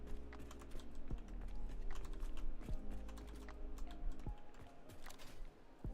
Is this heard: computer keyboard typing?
yes